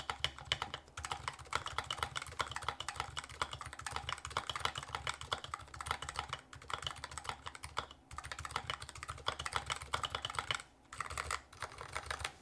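Continuous rapid typing on an EC mechanical keyboard with PBT keycaps, a dense, soft, slightly muffled clatter of keystrokes heard close up with brief pauses and no talking.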